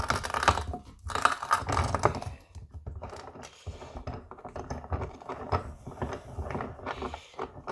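Hard rock quartz gold specimen being trimmed of excess rock, with a steady run of close, gritty cutting and clacking noise, dense and continuous with brief dips, no talk.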